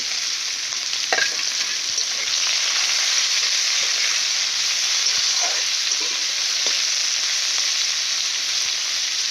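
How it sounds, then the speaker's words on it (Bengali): Onions frying in hot oil with two bay leaves, a loud steady sizzle with occasional spatula scrapes and taps. "পেঁয়াজগুলো লাল করে ভেজে নেব।"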